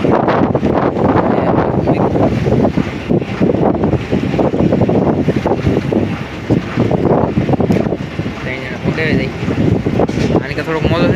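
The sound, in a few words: strong wind at sea on a fishing boat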